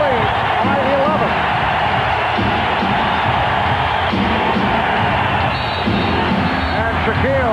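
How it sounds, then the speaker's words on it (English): A basketball arena crowd at a 1995 Suns versus Magic NBA game roars in a loud, sustained wash of cheering and hubbub, with whoops rising over it and a commentator talking throughout. "The crowd responds."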